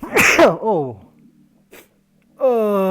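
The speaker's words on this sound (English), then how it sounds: "I did a big sneeze." One big sneeze lands close to the microphone, sharp and loud, followed by a trailing voiced exclamation, a short pause and then a person starting to speak.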